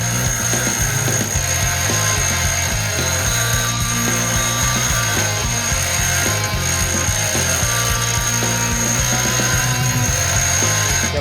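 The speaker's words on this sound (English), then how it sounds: "Got my bolts ground down" A power tool grinds down bolts in a steady, loud, continuous whine and rasp that holds without a break, close to the listener.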